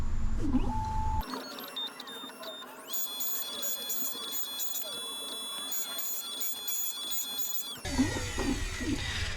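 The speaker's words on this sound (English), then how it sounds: "So I'm just going to hit cut and cut, 2mm cutter, and the machine will do its thing here." A Black Widow key machine with a 2mm cutter cuts an Ilco 1660 key in a van, producing a steady whining motor hum with high tonal squeals that runs for several seconds and then stops abruptly.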